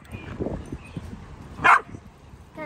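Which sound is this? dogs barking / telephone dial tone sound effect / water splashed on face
dogs barking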